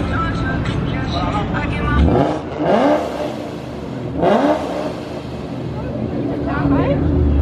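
A boosted Ford Mustang engine revs in loud surges over a steady idle rumble, with three rising blips, voices talking over it throughout.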